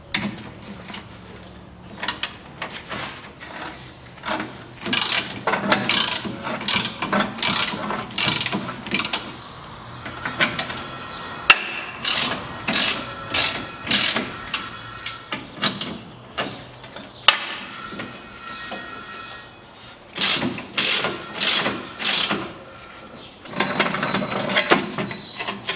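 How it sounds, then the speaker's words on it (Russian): A ratchet wrench loosens the rear bolts on the front driveshaft of a Ford Ranger 2.5 Turbo, with repeated close, sharp clicking bursts separated by short pauses. "Отвязываю сзади 4 болта"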